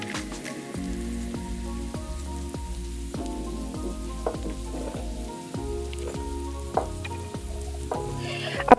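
Spice masala with garam masala sizzles steadily as it fries in a pan, with a constant crackle and repeated scrapes and taps of a stirring spoon throughout.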